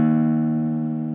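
A single guitar top string tuned a half step down rings out alone as a steady sustained note, loud and close, fading only slightly over just over a second.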